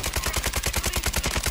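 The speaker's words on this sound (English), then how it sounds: "Oh, I'm getting shot from the hill" Rapid automatic gunfire in Call of Duty Warzone Resurgence on Ashika Island, a loud, evenly spaced burst of about a dozen shots fired in quick succession with no talk over it.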